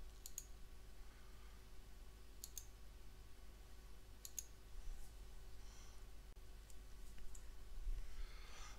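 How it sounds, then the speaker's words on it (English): Mouse clicks in PowerDirector editing software, sharp double clicks in small clusters spaced a second or two apart over faint steady room hum. "Clicking on a folder displays the templates for that category."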